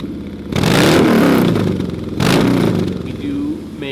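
A Milwaukee 8 Harley-Davidson fitted with a No Holds Barred racing exhaust revs twice, each time a loud, rising roar that falls back to a rumbling idle. A voice talks over it.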